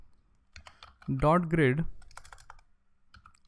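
Keystrokes on a computer keyboard click in a sparse, irregular pattern as code is entered for a Python Tkinter grid layout, with someone speaking briefly in the middle.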